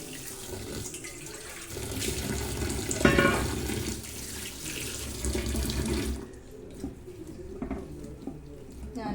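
Tap water runs steadily into a kitchen sink as soybeans are rinsed, a close, continuous splashing flow with a brief louder surge, then the stream quiets to a softer trickle near the end.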